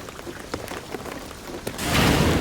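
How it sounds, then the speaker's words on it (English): Rain pours steadily in Shadow of the Tomb Raider, a continuous broadband hiss with faint patter that swells noticeably louder in the final moments, heard on its own with no voices. "the rain is gonna flood it"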